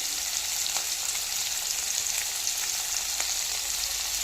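Cucumber sabji sizzles in a pan with turmeric, salt, chilli and garam masala while it is stirred, making a steady, close frying hiss with faint scraping ticks and no speech.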